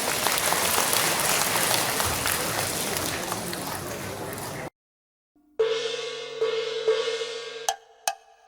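An audience at a Cantonese opera memorial event for Lam Kam-tong gives loud, dense applause for several seconds. It cuts abruptly to silence, then sustained musical tones with a few sharp knocks follow.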